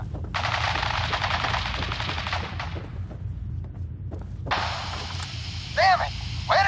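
Rapid automatic gunfire from the Fallout 4 video game, two sustained bursts separated by a short lull, with faint game sounds and voices underneath.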